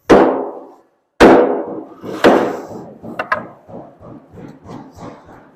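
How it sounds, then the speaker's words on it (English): A hammer knocking a plywood subfloor panel into place on floor framing, a few sharp ringing blows followed by a quick series of lighter taps, close and loud. "So that's why I'm tapping this in to close that distance."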